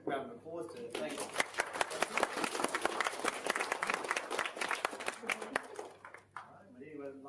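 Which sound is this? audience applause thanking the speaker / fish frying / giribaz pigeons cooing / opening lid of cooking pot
audience applause thanking the speaker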